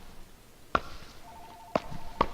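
Short electronic chirps sound in three sharp bursts, one early and two close together near the end, with a faint sustained tone between them like a phone ringing or a call alert, over quiet background hum.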